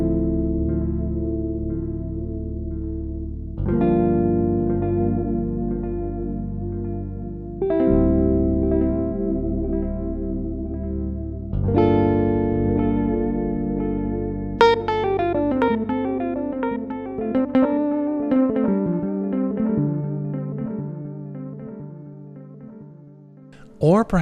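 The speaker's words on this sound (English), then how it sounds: "Whether it's an old British Bucket Brigade tape delay," Synth or instrument tones run through an old British bucket-brigade-style tape delay effect in Soundpaint, sustained chords and notes with echoing repeats and thick, slightly distorted tails, shifting to a busier cascading phrase near the end.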